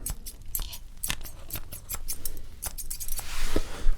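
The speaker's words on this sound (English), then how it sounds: "now very finest pair of scissors here" Sharp metallic snips from a fine pair of haircut scissors during a luxury barbershop haircut, close and crisp in quick irregular bursts, with brushing and rustling near the end.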